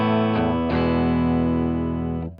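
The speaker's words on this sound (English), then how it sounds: "So if I engage the pedal now," Electric guitar, a Telecaster on the bridge pickup into a Vox AC15, played through an engaged Walrus Audio Luminary quad octave pedal; two strummed chords ring out close and sustained, then cut off, with no voices.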